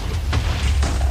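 Two short muffled blasts from the Minecraft Egg Wars game, dull low booms a half-second apart over a steady rumbling background.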